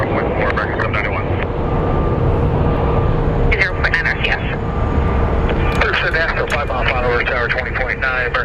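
Airplanes on the taxiways at Phoenix Sky Harbor International Airport, a steady engine roar throughout with radio chatter and someone talking over it.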